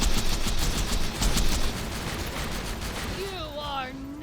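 Turrets fire on the player in Borderlands 2 while fighting Saturn bots, a rapid, dense burst of loud gunfire that rattles nonstop for several seconds before giving way to warbling electronic game effects.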